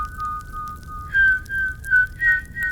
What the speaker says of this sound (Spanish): El silbido se hizo más fuerte, y parecía que se estaba acercando.